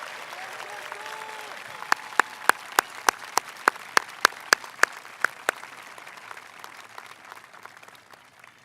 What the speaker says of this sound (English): Let's please applause those graduating with honors from the class of 2019.